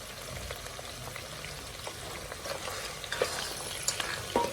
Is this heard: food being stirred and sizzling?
yes